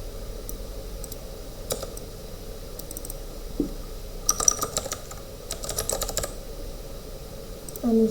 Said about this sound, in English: I'm just going to type in like strawberry